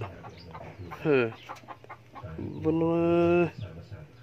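A hen clucks loudly up close in two drawn-out, rising calls, with scattered rustling and soft background noise between them.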